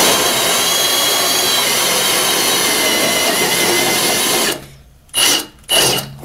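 A power saw cuts steadily and loudly through a plywood subfloor, a continuous close rasping whine that suddenly stops, then two short bursts as the blade briefly restarts.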